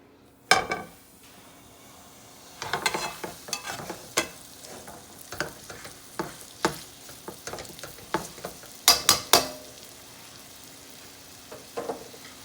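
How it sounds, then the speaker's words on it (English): A pot roast sears in canola oil in a pan, with quiet sizzling broken by many sharp scrapes, clinks and knocks of a utensil and the pan, irregular and close. "we're going to do a nice sear on our roast here"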